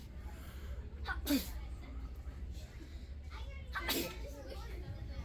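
Two quick, sharp sneezes a few seconds apart, fairly near, over a quiet background hum.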